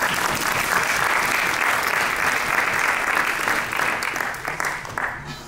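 An audience at a business talk on Lean gives a warm round of applause, dense and loud at first, then thinning into scattered claps as it fades out.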